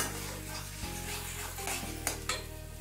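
Pointed gourd curry paste is stirred and fried with salt, a soft, close sizzle under scraping spoon strokes against the pan, with a couple of sharper scrapes near the end.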